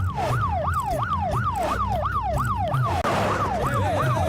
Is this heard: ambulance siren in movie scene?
yes